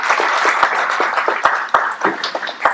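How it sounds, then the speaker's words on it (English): An audience at a Mvskoke culture and language study group applauds a speaker steadily, a dense patter of many hands clapping at once, fairly close and sustained throughout. "I want to just give him another big round of applause"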